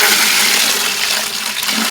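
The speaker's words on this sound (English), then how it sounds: "Then we just need to add some water and get it all mixed up." Water poured from a hose or tap into a container to mix a plant booster fertilizer for pepper plants, a steady loud rushing splash for about two seconds that cuts off abruptly, with no talking.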